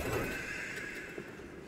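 A horse neighs in a drawn-out whinny, a sound effect within a fantasy audiobook, steady and fairly close with no talk over it.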